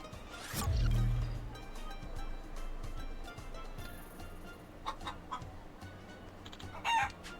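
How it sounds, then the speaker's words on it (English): Chickens in Like a Dragon: Pirate Yakuza in Hawaii, one loud close cluck burst near the start, then quieter scattered clucks over low background noise, with another short call near the end. "You can hear the chickens talking?"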